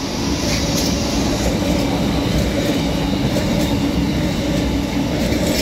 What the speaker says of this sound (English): Freightliner speeding through Doncaster Station.